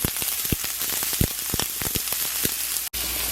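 Half an onion sizzles as it sweats in a pan for turkey tacos, a steady crackling fry broken by sharp pops and spits, close and fairly loud, with a brief dropout near the end.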